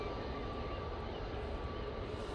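An EasyJet airliner takes off from Manchester Airport, producing a dense, steady engine roar at constant loudness with a faint tonal whine threaded through, no talk present.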